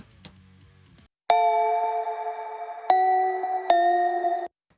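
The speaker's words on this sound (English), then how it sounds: "We have this main bell theme," A spooky bell theme with tremolo and chorus effects, in which three struck bell tones ring out clearly one after another, each sustaining with a wavering shimmer, after a brief faint low passage.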